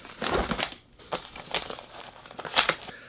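A paper envelope torn open and unfolded by hand, with several close bursts of crinkling and tearing, the louder rips spaced irregularly over a few seconds.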